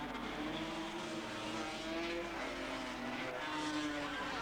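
1985 Suzuki 250 production motorcycles racing at Cemetery Circuit, their engines giving a continuous, buzzing whine that rises and falls in pitch as the bikes ride through.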